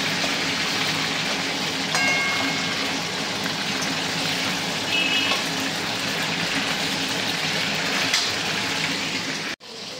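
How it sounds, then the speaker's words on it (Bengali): Meat frying in deep oil for biryani gives a steady, loud broadband sizzle that holds evenly throughout, with no voices and a brief cutoff near the end. "আমি মাংসটা ভাজতে শুরু করে দিয়েছি।"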